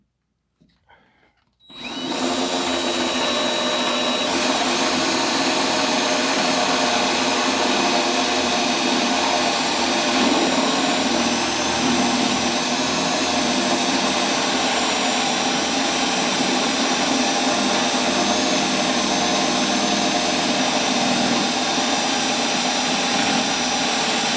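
A drill fitted with a Forstner bit starts after a brief quiet moment and then bores with a loud, constant motor whine and a grinding cut that holds steady for over twenty seconds.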